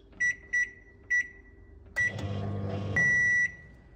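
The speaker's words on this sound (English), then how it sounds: "Into the microwave." A microwave oven cooking a coffee brownie: four short keypad beeps, then the oven starts up with a low steady hum and a longer tone sounds as it runs.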